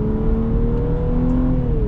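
A Nissan X-Trail engine accelerating on a test track, a loud, steady drone with a slowly rising pitch, heard from inside or close by with no talking.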